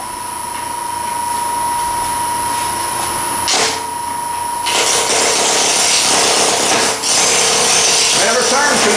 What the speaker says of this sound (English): I'm going to be using the large roughing gouge for this.